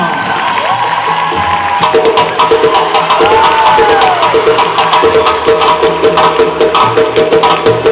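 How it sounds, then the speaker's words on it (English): Audience at a Somali kids' fashion show in Minneapolis claps and cheers for a child model, loud crowd clapping with shouts and children's voices over a steady musical backing, growing denser midway. "Please give a hand of applause to"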